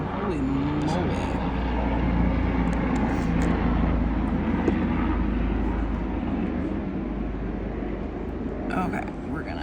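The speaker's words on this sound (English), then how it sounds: "Oh, that's a really loud airplane." A loud airplane flies overhead, a steady broad roar that fills the whole stretch and swells slightly in the middle, heard outdoors with some talk over it.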